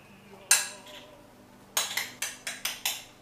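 Burrata cheese filling being stirred in a bowl, heard as one sharp clink followed by a string of six quick utensil scrapes and knocks against the dish, close by and fairly loud.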